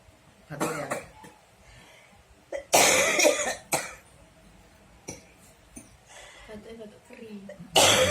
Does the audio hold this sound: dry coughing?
yes